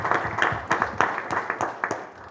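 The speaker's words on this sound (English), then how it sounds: "Let's give her a big round of applause" Applause at a mayor's town-hall night out for a county commissioner, a moderate room of scattered claps with distinct sharp individual hits standing out, gradually thinning toward the end.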